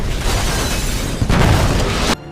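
A loud, rumbling explosion of a computer in a film fills the clip, swelling once before cutting off abruptly into quieter background.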